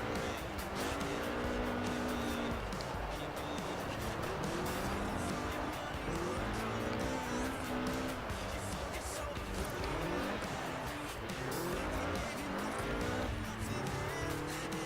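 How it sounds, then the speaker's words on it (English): A rally car with a fuel-injected 1790cc Cosworth engine, driven in the video game Forza Horizon 4, roars continuously with rising and falling revs through gear changes and tire squeal, while someone talks over it. "This was a car designed explicitly for rallying, with a powerful fuel-injected 1790cc Cosworth VDE engine."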